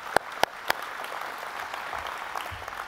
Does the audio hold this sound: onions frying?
no